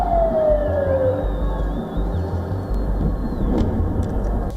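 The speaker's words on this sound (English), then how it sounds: "Sirens wail across cities as Iron Dome batteries scramble to intercept a barrage" Air raid sirens wail over an Israeli city during a nighttime rocket barrage, a rising and falling tone over dense low rumble and background noise, fairly loud with no speech.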